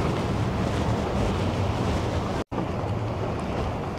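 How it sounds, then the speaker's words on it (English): Wind buffets the microphone along the Port Credit waterfront, a loud, steady roar that fills the clip with one short dropout partway through; no voices are heard. "The wind is a little bit more chillier here,"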